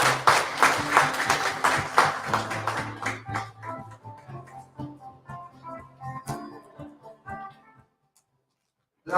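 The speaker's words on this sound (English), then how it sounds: "Let's give him a round of applause to our keynote speaker, Dr. Ruji P. Medina." Conference audience claps for a keynote speaker, a dense burst of applause that thins out into scattered claps before fading to silence.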